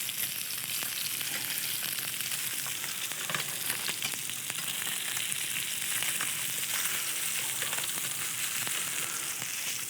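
Atlantic salmon fillets searing in a hot pan, a loud continuous sizzle and crackle of frying oil with small pops, steady throughout and up close.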